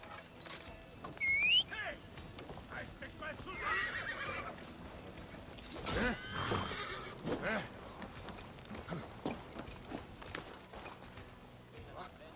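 A horse whinnies loudly in the video game Assassin's Creed Valhalla, followed by clip-clopping hooves and further neighs, with a person talking in German intermittently over the sounds.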